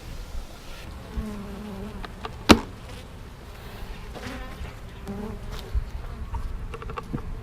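Honeybees buzz densely around an opened hive during winter preparations, a close, continuous droning swarm with a few sharp knocks and clicks from handling the boxes.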